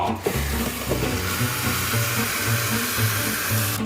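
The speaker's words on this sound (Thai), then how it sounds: "เราก็เติมน้ำไปให้เต็ม" Water rushes into a 5-litre plastic bottle being filled for homemade compost fertilizer, a steady close gurgling flow with a rising hollow tone over a few seconds, no talk.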